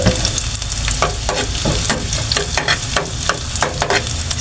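Bitter gourd (ampalaya) and egg fry in a pan with a loud, continuous sizzle, broken by repeated sharp scraping strokes of stirring at a fairly regular rhythm, close up and without talk.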